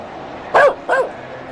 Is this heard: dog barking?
yes